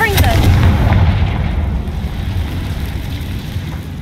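The Confringo explosion spell in Hogwarts Legacy sets off a loud booming blast that rolls into a long rumbling decay, close and heavy, with a brief voice at the start.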